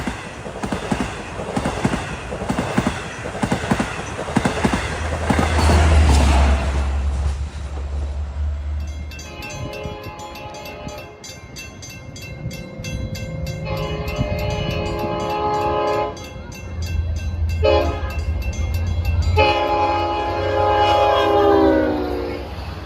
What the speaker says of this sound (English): Well, SEPTA engineer Bill is here, and that horn definitely sounds better than those GE Silverliner 4s that he runs.